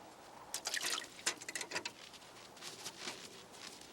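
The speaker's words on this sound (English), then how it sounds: "It looks like water, but it's sap from inside the maple tree." Sap drips from a tapped maple tree, a few quick irregular patters and splashes close by, faint and set against a quiet background.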